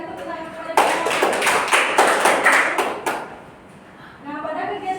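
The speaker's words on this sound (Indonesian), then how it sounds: "Berikan tepuk tangan kepada mereka." Children in a classroom lesson clap their hands together in a short burst of quick, uneven claps close by, then it falls quiet before faint voices resume.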